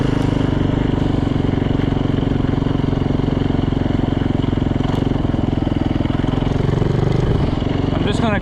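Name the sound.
Yamaha YZ450 dirt bike engine running after rebuild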